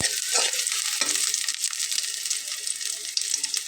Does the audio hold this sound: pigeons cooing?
no